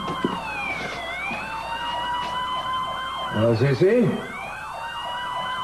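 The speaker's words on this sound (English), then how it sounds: "Must be a large one by the sound of those sirens." Several emergency sirens wail together from a large neighborhood fire, their rising and falling tones sweeping steadily and fairly close, with a woman's brief question spoken over them.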